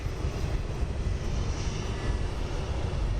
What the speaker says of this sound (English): the BizJet will probably either go down the Charlie taxiway or the Delta taxiway